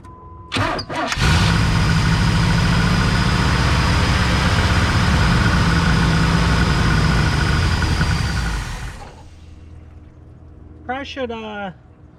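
A 1991 Pontiac Firebird Trans Am, converted from TPI to a carburetor, cranks briefly, fires and settles into a loud, steady, rumbling idle for about seven seconds before shutting off, followed by a short burst of speech.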